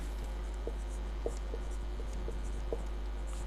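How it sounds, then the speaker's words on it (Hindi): Faint pen-on-paper writing during a Hindi lesson, a series of light scratches and small taps over a steady low background hum. "चलिए आगे लिखते हैं"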